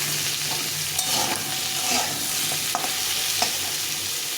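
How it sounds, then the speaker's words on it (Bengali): Pointed gourd frying in a little oil in a pan with the lid on, a continuous sizzle broken by a few sharp clicks and stirring taps, close and fairly quiet. "দিয়ে একটু ঢাকা চাপা দিয়ে আমি একটু ভেজে নেব"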